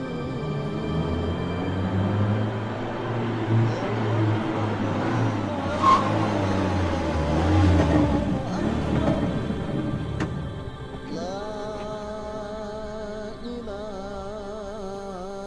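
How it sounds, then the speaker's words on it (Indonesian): A family car drives into a garage at the front of a house, its engine a steady low rumble that swells and passes, then settles into a quieter idle toward the end, with no talk over it. "mobil paman dan bibiku masuk ke garasi di depan rumah"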